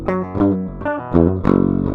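Unprocessed DI electric guitar with no amp simulation plays a thin, clean, close riff of quick picked notes and short chords, ending on a sustained note with fast tremolo picking.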